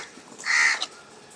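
A crow calls nearby with a single harsh, drawn-out caw, fairly loud over a quiet outdoor background, with no voices.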